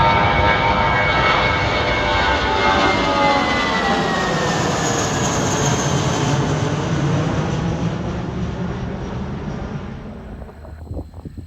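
A United Boeing 777 charter jet departs Cleveland Hopkins airport with a loud, steady roar of jet engines that fills the whole clip and fades slightly toward the end.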